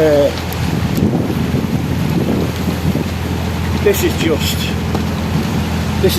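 Gusty wind buffets the microphone aboard a canal boat in cold, drizzly rain, over a low engine drone, with a voice talking faintly beneath it.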